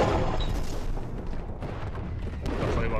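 Video game gunfire rattles without pause, a dense, loud barrage of shots and booms that fills the whole stretch with constant battle noise.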